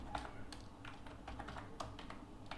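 Typing on a computer keyboard while writing a Python print statement: a run of light, irregular key clicks, fairly close, over a steady low background hum with no talking.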